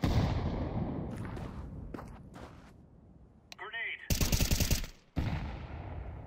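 Mac-10 submachine gun fire in a first-person shooter video game, heard as rapid bursts of automatic gunfire with loud sharp cracks in the second half, mixed with game ambience and background noise.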